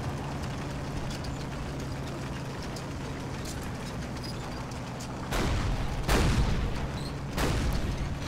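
Heavy gun reports in the WWII-style strategy game Combat Mission Red Thunder: three loud, booming blasts land a second or so apart after a long stretch of steady, low rumbling battlefield ambience.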